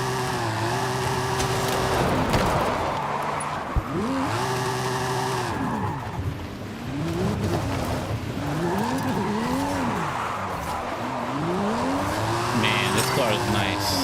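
Jaguar XKR sports car in Forza Horizon 5, engine revving up and down with repeated shifts while tires squeal through drifts, a continuous loud roar with a voice talking over it.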